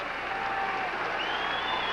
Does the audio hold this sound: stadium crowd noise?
yes